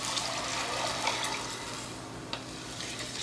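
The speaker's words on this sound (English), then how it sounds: "I'm just going to put the water in, and it is hot water." Hot water poured into a pot of cooking rice, a steady watery rush with light splashy texture running throughout, moderately close and alone without talk.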